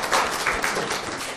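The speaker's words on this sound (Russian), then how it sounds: "Ну, аплодисменты." Applause from a student talk-show audience, a moderate spread of clapping hands filling the short stretch at a fairly even, slightly distant level.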